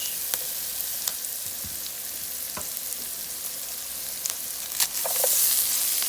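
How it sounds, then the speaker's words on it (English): Cabbage sizzling in a frying pan for Southern-style fried cabbage, a steady soft hiss with a few faint clicks and stirring taps, swelling slightly louder near the end, with no talk. "So now I'm going to start adding the cabbage."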